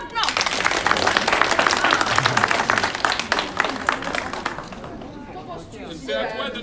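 Loud, dense clapping from a theatre audience at a live stage show fills the first five seconds, then fades to scattered claps as a performer begins speaking.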